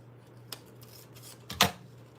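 Scissors snipping collage paper, two crisp cuts close by, a light one followed a second later by a louder, sharper snip, against a faint steady hum and no talking.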